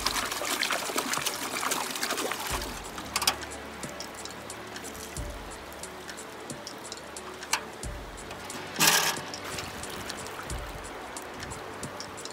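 Water trickles and splashes steadily while residue is rinsed in a gold pan at a French campsite, with a few louder sloshes and clinks along the way and no talking.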